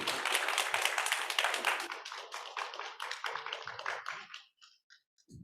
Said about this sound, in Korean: 마지막으로 박수로 격려해 주시기 바라겠습니다